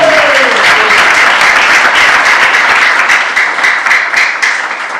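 Congregation applause during a church youth service sermon, loud, close clapping from many people that swells quickly after a brief voice at the start and then tapers gradually toward the end.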